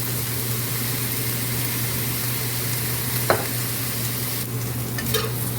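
Soy sauce being stirred into food frying in a pan, with a steady sizzle throughout, a brief clink from the utensil, and soft scraping near the end.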